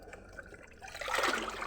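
Water from a bucket is poured onto garden plants: a faint trickle first, then a louder, splashing pour that swells and carries on to the end, with no talk over it.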